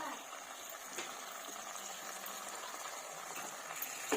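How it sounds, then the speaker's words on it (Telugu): Mint leaves frying in a pan for chutney, with tamarind about to be added, giving off a continuous, even sizzle with occasional louder spits and no talking. "పుదీనా వేగుతున్నప్పుడు చింతపండు అందులో వేసుకోవాలి"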